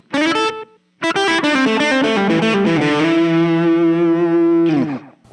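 Electric guitar notes through a NUX Mighty Lite BT modeling amp with a short slapback delay, a brief phrase, a pause, then a strummed run settling into a sustained chord.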